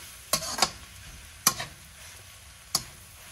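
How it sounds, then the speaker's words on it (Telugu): Onions and curry leaves sizzle softly in a pan under a steady hiss, while three distinct scraping strokes of a spoon stirring the mix sound close by, with no talking. "ఇప్పుడు ఆనియన్ వేయించుకున్నామండి. తర్వాత మనం కరివేపాకు యాడ్ చేద్దాం. దీనిని ఇలా కలుపుతూ ఉండండి."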